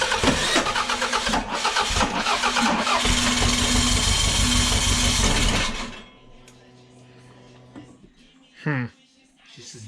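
A Toyota engine cranks loudly and roughly for about six seconds without catching, then stops, leaving quieter mechanical noises and a brief sound near the end.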